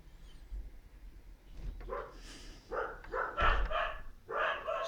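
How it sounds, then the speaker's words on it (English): Dogs bark in the distance outdoors, a quiet string of separate yips and barks that grows into clustered bursts toward the end, with no talk. "Fucking dogs are going off."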